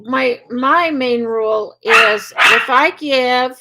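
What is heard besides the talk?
dogs barking in the background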